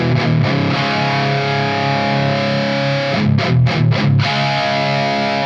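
A distorted electric guitar through a BOSS GE-7 EQ pedal with a scooped tone, heavy low end and bright top, playing chugging chords with a few short choked stops.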